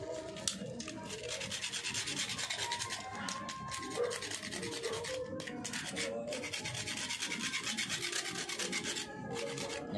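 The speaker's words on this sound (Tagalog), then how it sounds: "Kuskusin natin to. Yan. Tanggalin yung unang pintura bago natin yung cutikan." Close, steady rasping scrub as old paint is rubbed off an old Rapala fishing lure, continuous back-and-forth strokes over about ten seconds, no speech.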